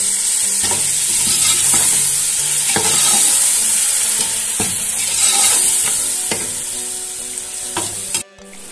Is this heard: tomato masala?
yes